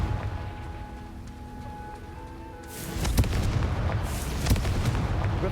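A Confringo spell blast in Hogwarts Legacy, a loud booming explosion that bursts in after a quiet ambient stretch, then rumbles on with several sharp blast cracks and no talk.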